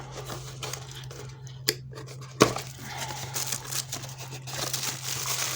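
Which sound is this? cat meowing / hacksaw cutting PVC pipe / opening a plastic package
opening a plastic package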